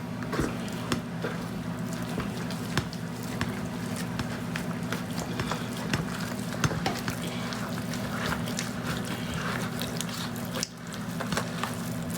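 Ingredients for chicken and yellow rice being stirred together in a bowl, a continuous soft wet squishing and scraping with a steady low hum underneath.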